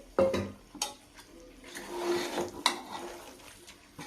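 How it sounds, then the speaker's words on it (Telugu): Four medium tomatoes tipped into a pan of country chicken with oil risen to the top, a close thud and clatter followed by soft sizzling and the scrape of a utensil against the pan. "ఇప్పుడు 4 టమాటోస్ వేస్తున్నాను, మీడియం సైజ్వి."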